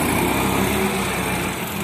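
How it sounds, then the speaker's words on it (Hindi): An Eicher 480 tractor engine drones steadily and loudly throughout, a continuous rough mechanical hum with no pauses or voices. "आइसर 480 ट्रैक्टर है दोस्तों"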